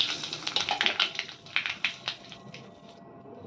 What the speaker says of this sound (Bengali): এরপর আমি ঝোলের জন্য ফোড়ন দিচ্ছি দেখো কালো জিরা আর তেজপাতা